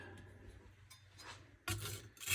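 A knife blade scrapes over a freshly lapped, coarse 46-grit Norton Crystolon oilstone in a few short, gritty rasping strokes, close and quiet, with a louder stroke near the end.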